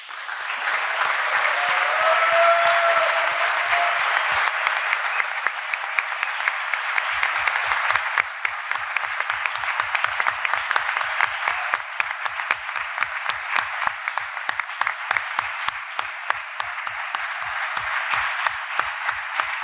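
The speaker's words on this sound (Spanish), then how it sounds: "ustedes se merecen este fuerte aplauso" Loud, sustained audience applause fills a university cannabis-culture panel session, steady dense clapping that continues unbroken for the full stretch, with a few faint tonal whistles early on.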